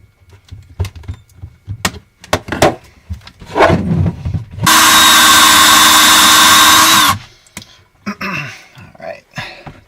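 A power tool whirs loud and steady for about two seconds while trimming brass cartridge cases being converted from .223 to .300 Blackout, set between clunks and handling noises on a workbench, with someone talking nearby.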